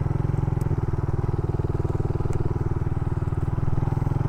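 A Suzuki Raider 150 motorcycle engine idles nearby with a fast, even, throbbing pulse that holds steady throughout, and no voices.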